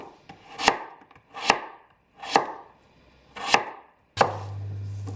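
A knife slicing two medium potatoes into thin slices on a board, producing five crisp, evenly spaced cuts about a second apart, close and distinct, with no talk.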